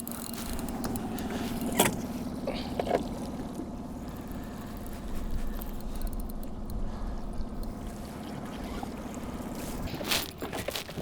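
A small outboard boat motor hums steadily on Andrew Lake in Alberta, with water lapping and splashing against the hull. Faint bumps and knocks rise over the drone.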